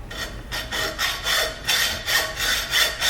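A Lennox hacksaw with a brand new blade cuts through a crankcase breather tube for a Case 830 tractor, giving six or seven loud, rhythmic rasping strokes close up with no talking.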